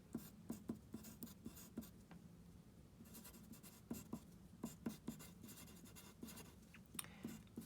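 Pencil scratching on paper in a second-grade math class, quiet rapid strokes and taps in irregular bursts, close and faint, with no talking.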